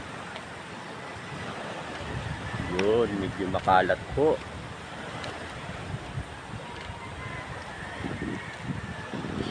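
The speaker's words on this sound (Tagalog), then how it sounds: "Pasyal-pasyal muna tayo sa dagat." Sea waves and wind at a beach make a steady rushing wash, with wind buffeting the microphone and someone speaking briefly over it.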